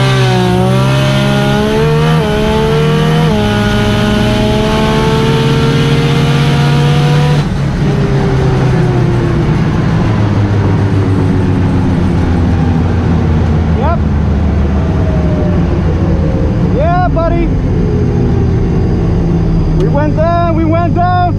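Loud, close roar of a six-cylinder Toyota Supra street car launching down a drag strip, the engine note climbing through gears for about seven seconds and then settling into a sustained drone with rising whines and whistles near the end.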